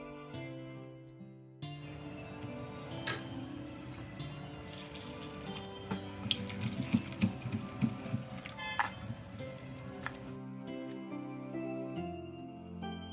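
Mulkakaya vegetables are washed in water, with sloshing, trickling and dripping splashes in bursts, fairly close and moderately quiet, and a brief pause near the start.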